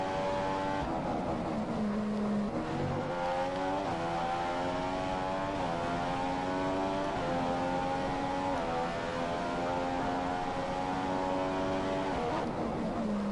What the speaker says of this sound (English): I went quickly up to 8th gear and then came back down